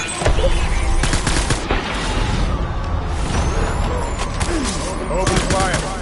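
Heavy video game gunfire rattles in dense, sustained volleys, loud and near, mixed with other battle noise and a voice calling out.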